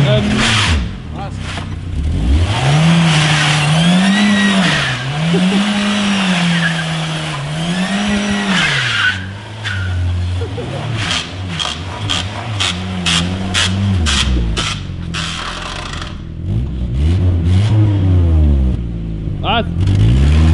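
A Volkswagen Golf 3 engine hums and revs while driving, the pitch rising and falling with each gear, loud and close inside the cabin, with people talking over it.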